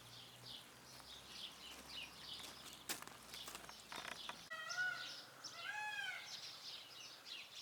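A peacock at a house in a peaceful, paradise-like spot on Ibiza cries out, loud, nasal wailing calls rising and falling in the second half, with smaller birds chirping in the background beforehand.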